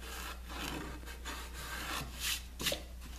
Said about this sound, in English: Do a little sanding on them.